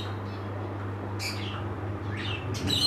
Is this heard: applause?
no